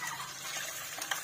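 Water rushes quickly into a small garden mini pond as a steady, faint splashing hiss, with a slightly louder splash near the end and no speech.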